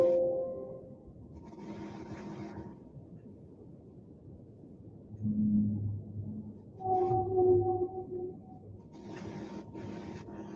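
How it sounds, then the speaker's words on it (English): Eerie whale song with long tonal moans and calls rising and falling, alternating with quieter stretches of low rumbling water noise; moderately loud and heard without any talking. "It's the whale song."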